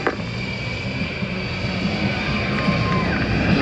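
Jet engine roar from an A-10C Warthog attack aircraft at the Cleveland National Air Show, a loud, steady broadband drone that swells slightly over a few seconds, with crowd and announcer ambience beneath.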